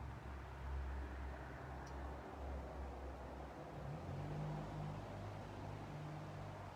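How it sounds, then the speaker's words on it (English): A car and a truck passing along a street, low engine rumble swelling and fading over steady background noise, fairly faint and distant with no talk. "So a car just drove by, a truck drove by."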